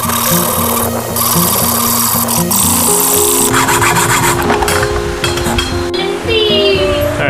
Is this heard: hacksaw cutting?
yes